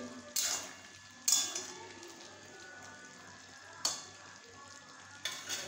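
Jackfruit and shrimp fry in a pan over a low flame, with a soft steady sizzle broken by four sharp scraping stirs of a utensil against the pan.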